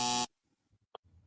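A short buzzer-like burst sounds loud at the very start, then cuts off into near silence with faint low rumbles and one brief tonal blip.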